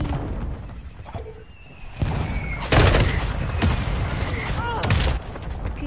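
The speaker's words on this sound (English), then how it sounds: "Friendly mortar strike inbound." Mortar strike in a Call of Duty game, several sharp booming impacts and bursts scattered over a few seconds, with a particularly loud blast near the middle, amid ongoing battle noise.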